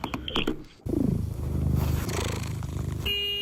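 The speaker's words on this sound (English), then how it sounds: "Oh, a cat purr?" A cat purring from a sound sample pack, a low rumbling, pulsing purr that starts abruptly after some brief clicks and continues steadily and close for about two seconds.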